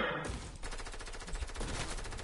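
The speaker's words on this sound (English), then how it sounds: "Yeah, I'm getting shot at, bro." Sustained automatic gunfire in a first-person shooter, aimed at the player. It comes as rapid rattling bursts that stay loud and close through the whole moment, with no talk over it.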